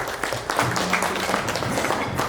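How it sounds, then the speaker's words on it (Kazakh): A crowd at a Kazakh wedding gathering, an earring-giving ceremony, claps in a dense burst of applause throughout, fairly close. "Бір шапалақтап қойыңыз құдекеңдерге."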